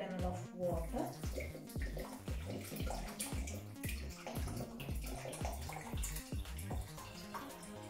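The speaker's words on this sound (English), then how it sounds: "Now I will add around 500 ml of water." About 500 ml of water pours into a pan for sugar syrup, giving an irregular splashing, gurgling stream close by.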